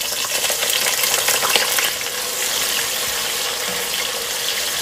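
Chopped onions dropped into hot oil with garam masala, a loud, dense, close sizzle that flares at first and then settles into a steady frying hiss, with no voices.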